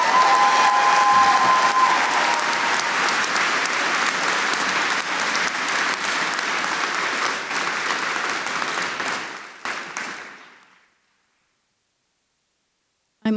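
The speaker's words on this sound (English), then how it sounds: "Can we just give them one more round of applause?" Audience at an academic awards convocation applauding the faculty, a dense, sustained wash of clapping from a large crowd that holds steady for about ten seconds, then tapers and stops abruptly into silence.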